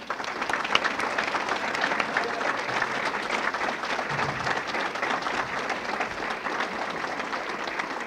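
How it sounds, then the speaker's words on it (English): An audience at an awards banquet honoring community leaders breaks into sustained applause. Dense clapping from many hands fills the room at an even level throughout. "Let's have a round of applause for our next Lindbergh leader."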